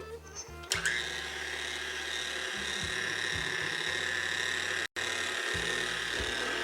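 An electric stand mixer beats fig and walnut cake batter with a steady, continuous whirring motor drone that carries on almost unbroken, briefly cutting out once near the end before resuming.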